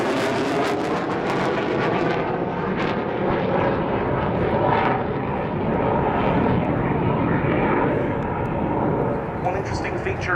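Polish Air Force Sukhoi Su-22 Fitter jet at the Royal International Air Tattoo airshow, a loud continuous roar that swells and slowly fades as it passes, with a commentator talking over it.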